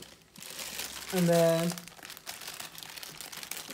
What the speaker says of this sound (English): In case you just want to tear it open.